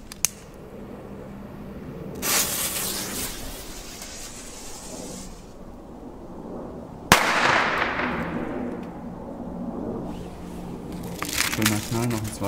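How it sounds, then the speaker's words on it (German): A Weco Class A Chinese firecracker explodes in the snow on New Year's. Hissing, rustling outdoor noise comes first, then a single sharp, loud bang with a trailing echo that slowly fades. "jetzt haben wir noch China-Böller B von Leslie und China-Böller A von Weco"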